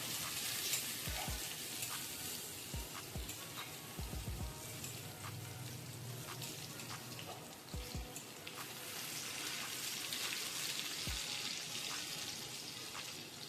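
Crushed garlic and green chili fry in oil as a tempering for masoor dal, giving a steady, close crackling sizzle throughout, punctuated by a few soft low knocks from stirring.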